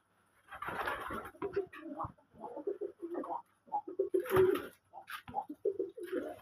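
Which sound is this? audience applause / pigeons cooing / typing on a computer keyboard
pigeons cooing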